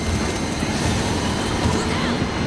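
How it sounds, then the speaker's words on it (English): In the World War Z video game, a train rumbles and crashes through a gate, a dense, loud, continuous roar of grinding rail noise with no talk. "Send the train through the gate."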